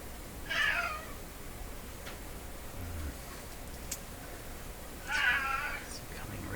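A pet cat meows twice, about four seconds apart, fairly close in a quiet room with faint background hum and occasional small ticks.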